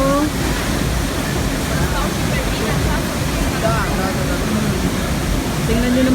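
A waterfall roars as a loud, steady wash of rushing water that fills the whole scene, with voices faintly talking beneath it.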